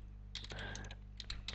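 Fingers tap out a short blog title on a computer keyboard, a quick burst of crisp clicky keystrokes with a brief pause and a few more taps, close and alone.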